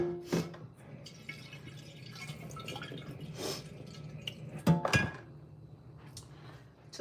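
Water runs from a tap into a cooking pot in a home kitchen, a steady trickling and dripping with a few clanks of the pot, fairly close and without talk.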